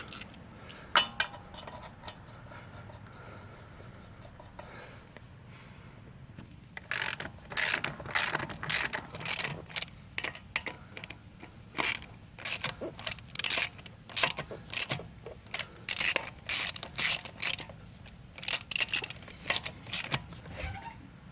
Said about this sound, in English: We'll go ahead and get our lugs snugged back down.